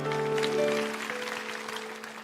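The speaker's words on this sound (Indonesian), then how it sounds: "kasih tepuk tangan untuk Tuhan Yesus" A church congregation applauds during a Sunday worship service, a broad, steady wash of clapping under sustained organ or keyboard chords, fading slightly toward the end.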